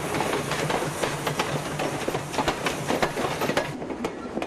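A train runs along a Canadian railway, with a continuous rolling rumble and repeated sharp clicks and clacks of wheels over rail joints, loud and close throughout.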